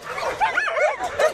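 Dogs at an overheated shelter make a quick run of high yips and whimpering barks, close and fairly faint.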